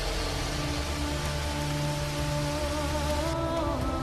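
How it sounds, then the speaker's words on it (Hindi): Heavy rain pours in a dense, steady hiss that stays loud and unbroken throughout, with a soft tonal drone running underneath and no voices. "बारिश बहुत तेज हो रही है"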